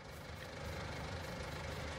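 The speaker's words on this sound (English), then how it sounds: "I left the engine running." A tractor engine idles in Farming Simulator 19: a steady, low, rumbling drone with constant vibration that stays even throughout, with no talk.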